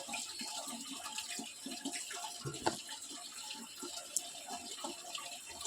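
Tap water runs softly and steadily into a basin while two scarves are washed by hand, with faint splashes and drips at a distance.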